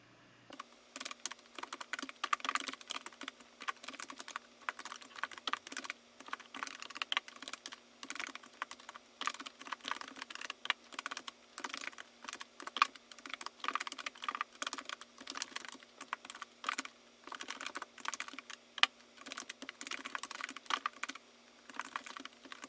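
Code being typed on a computer keyboard in a quiet room, a continuous rapid patter of light key clicks with brief pauses between bursts.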